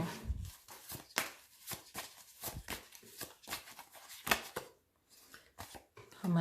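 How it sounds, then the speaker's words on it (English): A tarot card deck is shuffled upside down by hand, giving a run of quiet, irregular riffling and slapping bursts with brief pauses between them. No one speaks. "I'm shuffling the deck upside down."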